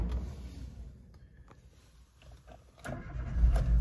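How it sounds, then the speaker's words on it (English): A 2008 Renault Kangoo 1.2i 16v engine cranks and starts, quiet at first then catching with a rising rumble near the end, close by. "Let's just start it up then, just so you can see it starts fine, no hesitation."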